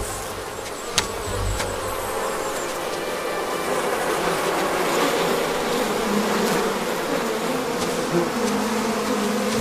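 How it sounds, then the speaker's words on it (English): Bees buzzing steadily around a smoked honey hive, a dense droning hum that fills the whole stretch at close range with no talk over it. "What's the matter? One of the bees not sleeping?"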